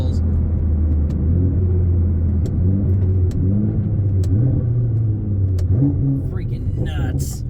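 A Nissan R35 GTR sports car driven hard on a road course, its engine a steady loud low drone with pitch rising and falling through shifts, plus brief clicks near the end.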